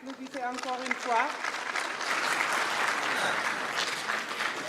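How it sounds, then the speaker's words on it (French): Audience applause at a Senegalese national diaspora day event, a steady dense clapping that swells right after a voice and continues loudly throughout. "Applaudissez encore une fois"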